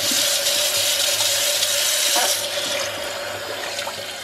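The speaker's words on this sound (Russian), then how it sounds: "Горячую воду включаю." Hot water runs steadily from a kitchen tap into a sink, a continuous splashing hiss that eases slightly toward the end.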